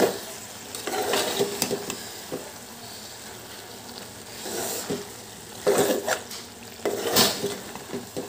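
A spoon stirs a powder of coconut, garlic, clove, cardamom and cinnamon into a keema, cauliflower and peas masala curry, with scraping pan strokes that come in bursts between quieter gaps and a faint sizzle underneath.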